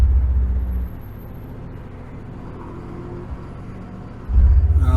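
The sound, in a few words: truck engine revving while pulling away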